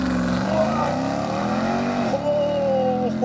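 A 2027 RAM TRX, a 777 hp super truck, launches hard under launch control, its engine roaring loud and rising steadily in pitch as it accelerates, with a brief shift-like dip partway through and continuous near, full-throated intensity throughout.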